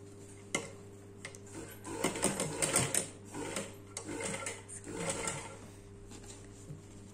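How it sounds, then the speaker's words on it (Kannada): Sewing machine stitching fabric during a fashion design class, with several soft bursts of rapid ticking needle stitches separated by brief pauses, close and fairly quiet over a steady low hum. "ನಾನು ಸ್ಟಿಚ್ ಮಾಡ್ತಾ ಇದ್ದೆ ಈಗ"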